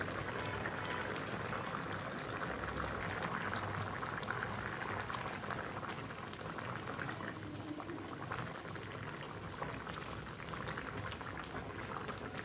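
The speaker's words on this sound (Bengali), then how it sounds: "মাছগুলো দিয়ে আবারও আমি একটু ফুটিয়ে নেব" A pot of khoira fish curry with potato and cauliflower boils at a steady, continuous bubble, close and even throughout with no voices.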